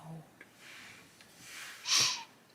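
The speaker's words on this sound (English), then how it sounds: "Excuse me, sniffing away." Close, soft nasal sniffs and breaths from a person colouring at a desk, a few quiet airy intakes ending in one sharper, louder sniff.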